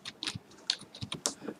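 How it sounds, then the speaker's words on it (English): Quick irregular clicks of typing on a computer keyboard, close and clear, a burst of keystrokes with no talk. "Now I am clicking this, I am typing,"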